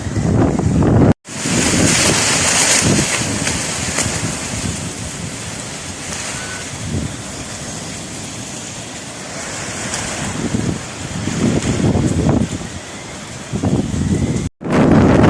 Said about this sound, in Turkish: şu an Giresun'da ilçelerimizde rüzgar çıktı yaklaşık 15 dakikadır